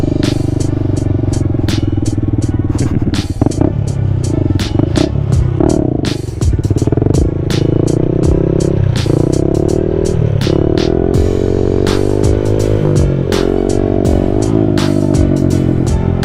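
Up close, a Honda Grom motorcycle holds a wheelie, its engine droning loud and steady for a long stretch, rising and falling in pitch as the throttle is worked, with rapid clattering ticks over the drone.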